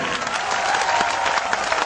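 Audience applause at an Everland tumbling acrobatics show, a dense, steady wash of clapping from a crowd that holds for the whole stretch.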